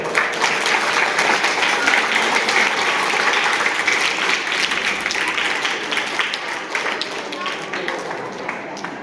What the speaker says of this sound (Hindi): एक बार इनके लिए ताली बजा दो।